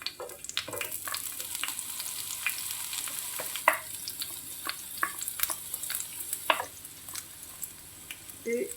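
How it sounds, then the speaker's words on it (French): Onion and vegetables sautéing in olive oil in a pan for ratatouille make a soft, close sizzle broken by frequent light taps and scrapes of a utensil, with no voices. "Faire revenir les légumes."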